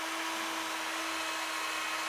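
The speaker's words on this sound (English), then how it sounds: "Now I'm going to drill these 2 holes." A steady, high-pitched whine of a power drill boring holes into a drywall wall runs continuously, close and fairly loud, without pauses.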